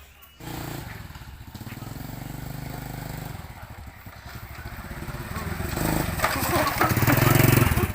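Motorcycle engine running close by with a sputtering rhythm, holding steady then revving louder toward the end, the roar swelling in the final seconds.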